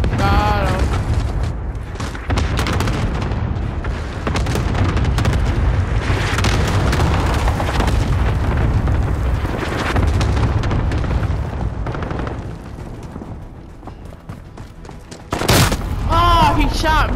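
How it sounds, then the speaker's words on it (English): Cluster strike explosions in Call of Duty Modern Warfare, a dense, loud rumble of overlapping booms and blasts running continuously with gunfire mixed in, under players talking. "Allied cluster strike inbound."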